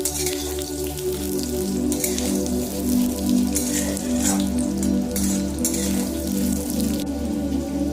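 Cut potatoes frying in oil in a pan, giving a steady close sizzle and crackle with a constant low hum behind it.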